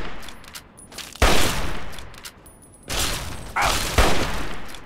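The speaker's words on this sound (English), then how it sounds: "he has a freaking shotgun." Gunfire from a shotgun-wielding raider in the PC game Fallout 3: loud, close blasts with booming reports, one after about a second, then two more in quick succession near the end, each trailing into noisy echo.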